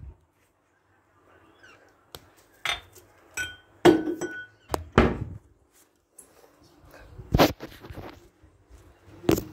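Drinking glasses clink and knock as they are set down on a hard surface in a kitchen, several sharp close taps separated by quiet gaps, with no talk.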